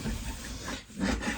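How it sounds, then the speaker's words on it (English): A chisel working wood during a camper remodel, a continuous close scraping and rasping with a brief pause partway through. "So I'm taking a chisel"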